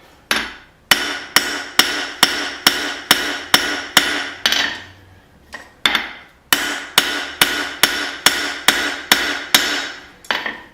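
A hammer strikes hot steel in a steady run of sharp, ringing blows while a bolt is forged into a small knife. About a dozen evenly spaced hits come, then a brief pause, then another even series, loud and close.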